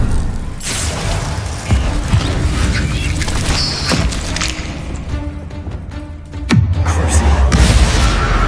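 Bombarda explosion spell cast in Hogwarts Legacy, heavy booms and crashing bursts over constant game noise, with a big low-thudding blast near the end, loud and close.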